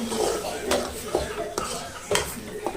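A spoon stirring ridge gourd and tomato curry in a pan after coriander goes in, with several sharp utensil scrapes and clinks against the metal at irregular intervals, close and moderately loud.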